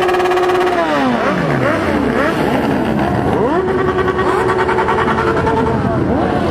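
A Yamaha XJ motorcycle revs loudly in busy city traffic, its engine pitch sweeping down and then climbing again as it accelerates close by, with other motorcycle engines layered underneath.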